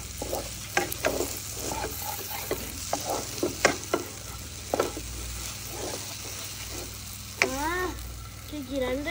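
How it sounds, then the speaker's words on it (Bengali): Bread laddu mixture being stirred with ghee in a pan, a steady run of scraping spoon strokes over a soft sizzle, close and fairly loud, with a brief voice near the end. "এবারও ভালোভাবে মিক্স করে নেব ঘিটা।"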